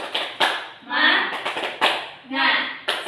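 A grade-three class in an Indonesian primary school does a rhythmic cheer clap: sharp claps land in a pattern, with children chanting loudly between them.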